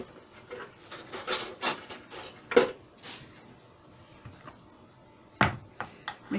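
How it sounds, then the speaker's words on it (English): Canned mushroom soup being stirred and mixed up in a container for crock pot liver and onions, giving a series of close, irregular scraping and rubbing knocks that come and go, some louder than others, with no talking. "mix up this mushroom soup."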